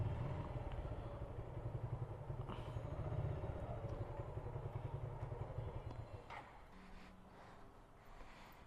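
A beloved motorcycle in a dark garage runs with a low, steady engine rumble, faint and somewhat distant, which drops off and thins out over the last couple of seconds.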